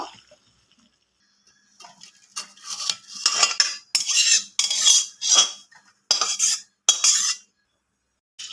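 Boiled cabbage being drained through a metal strainer in a home kitchen, with a string of sharp clinks and scrapes of metal on metal and short splashy bursts in uneven rhythm, close and fairly loud.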